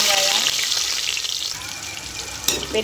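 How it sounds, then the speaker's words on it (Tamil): Mustard seeds, a little fenugreek and curry leaves sizzle and crackle in hot oil for tempering, a bright continuous frying hiss close by with a sharp pop near the end. "கடுகு, கொஞ்சமாக வெந்தயம், அடுத்து கருவேப்பிலை போட்டு தாளிச்சுக்கணும்."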